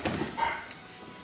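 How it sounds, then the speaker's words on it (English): A dog gives a single short, close bark followed by quieter room sound. "That's Fallon's dog."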